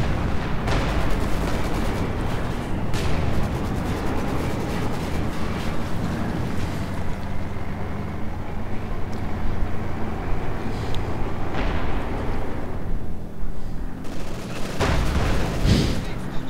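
Battle sounds from the strategy game Company of Heroes 2, with dense continuous gunfire, booms and artillery blasts rumbling loudly throughout in a German-Russian firefight.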